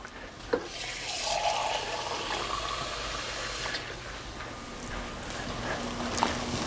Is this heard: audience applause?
no